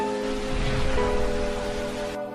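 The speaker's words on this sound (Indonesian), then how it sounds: "hujan turun dan petir menyambar-nyambar" Heavy rain falls steadily during a thunderstorm over rice fields, a dense continuous hiss of drops that is loud and close, with no thunder or voices.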